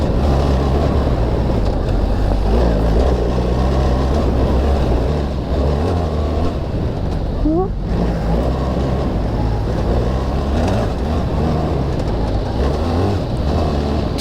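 A BMW R 1300 GS Adventure Trophy X motorcycle riding off-road over dirt with G-outs and jumps, its engine a loud, continuous rumble mixed with wind buffeting, with brief shifts in pitch as it accelerates.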